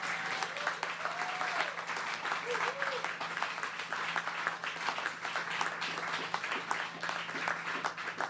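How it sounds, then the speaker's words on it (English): Audience at a 2021 federal election speech breaks into sustained, dense applause that fills the room steadily throughout, with a brief voice heard over it early on. "Let's give them a round of applause."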